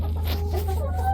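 A few chickens cluck softly inside a winter coop freshly bedded with wood shavings, brief scattered calls over a steady low hum.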